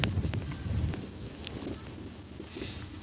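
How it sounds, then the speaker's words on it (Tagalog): Gusty wind blows across an outdoor children's playground and garden area, a steady rumbling buffet against the microphone that is strongest in the first second and continues throughout, with no talking. "mahangin nga lang guys"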